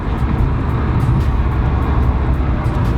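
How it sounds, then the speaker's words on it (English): Renault Megane RS225 accelerating hard in fourth gear, its engine droning loud and low for a few seconds, a continuous close-up roar without speech. "Then fourth gear, you smash it,"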